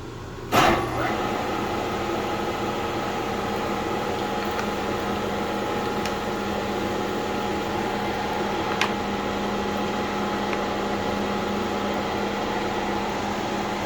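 Spindle of an Abene VHF3 milling machine running in a workshop, a steady mechanical hum with tonal lines under a constant broadband whir, with a brief clunk near the start and light talk over it.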